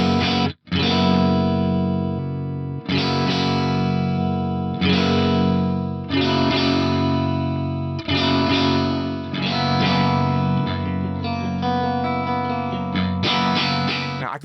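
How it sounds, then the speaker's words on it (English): A clean electric guitar through an Axe effects unit with a 12 ms delay, giving a thick, chorus-like shimmer to sustained chords that are struck in repeated strums, loud and up front with no talk. "Let's use, say, a 12 millisecond delay in here and have a listen to what it does to the clean sound."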